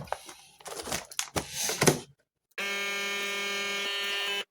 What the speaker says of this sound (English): Let's get those other ones vacuum sealed